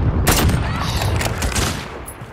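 Gunfire in Call of Duty: Modern Warfare comes as a loud, close burst of rapid shots, then a rattling volley that trails off and fades over about two seconds.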